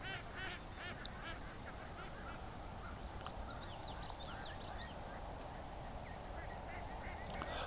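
A flock of ducks honks and quacks outdoors in rainy weather, repeated nasal calls rising over a steady wash of background noise.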